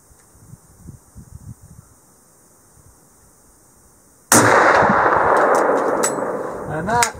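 A rifle shot fired outdoors at a bison shoot in the Yukon in December: after a quiet stretch of soft rustling and murmuring, one sudden loud crack hits, followed by a long, slowly fading rumble and clatter.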